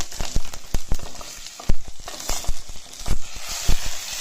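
Split urad dal fries in hot oil in a pan, a loud, close, continuous sizzle broken by frequent sharp crackles and pops, with no voices.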